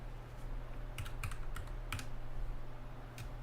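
Keys clacking on a computer keyboard in short irregular bursts, fairly close, over a steady low electrical hum with no talking.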